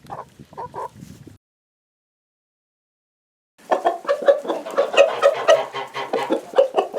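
Backyard flock of hens with a rooster clucking: a short burst of clucks, a pause of silence, then a busier stretch of overlapping close clucking and calls from several birds.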